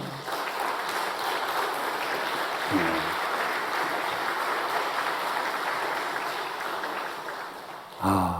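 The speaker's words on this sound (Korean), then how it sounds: "이렇게 뜨거운 박수로 환영해 주시니까 너무 감사해요." Sustained applause from a church congregation at a Korean revival service, a dense wash of clapping that holds steady, with a brief voice breaking through near the end.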